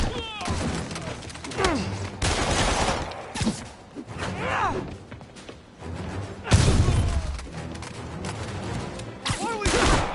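Enemy gunmen opening fire in Marvel's Spider-Man, with dense bursts of gunshots, booms and crashes mixed with shouted voices and game music throughout.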